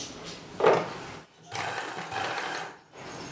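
A sewing machine stitches a blouse sleeve at the shoulder joint, running close and steady in short bursts with a brief pause between runs, and no one speaks.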